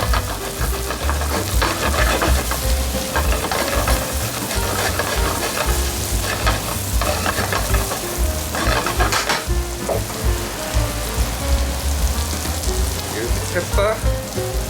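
Seabass pan-frying in butter with garlic and mushrooms over a high flame gives a loud, steady sizzle that never lets up, with occasional spatters and stirring clinks and no talking.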